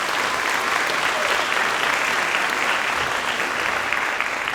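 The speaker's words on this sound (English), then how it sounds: "Please, a warm round of applause for Darius." A large audience applauds a performer at an annual community celebration of Martin Luther King, a loud, even wash of clapping that holds steady throughout.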